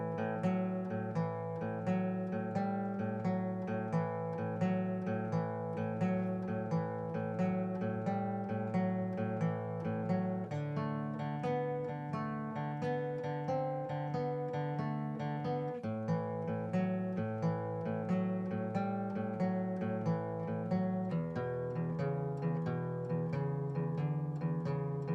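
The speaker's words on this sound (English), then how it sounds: "I'm going to show you a little alternate picking exercise using our 12-bar blues pattern" A 12-bar blues riff is picked on guitar with alternate picking, with steady, evenly spaced notes moving between two strings in a repeating pattern. It is played alone and at moderate volume.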